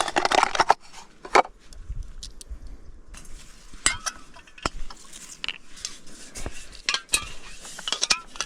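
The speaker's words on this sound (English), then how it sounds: "So I'm gonna get the cooking gear ready while we wait for a fish to bite." Camping cooking gear handled beside a mountain trout stream: sporadic metallic clinks, clanks and scrapes of pots and utensils, close by and irregular, with quiet gaps between.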